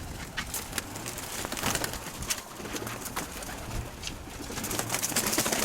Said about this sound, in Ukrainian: Ось такі карненькі голуб'ята.